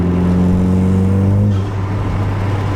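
A 2018 Honda Civic Si fitted with an Invidia R400 exhaust idles with a steady, deep droning tone, close and loud, with a higher harmonic fading out midway.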